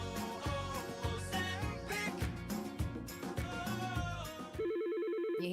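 A telephone rings in an advert for business phone systems, a short run of regular electronic trills at the end, following busy music.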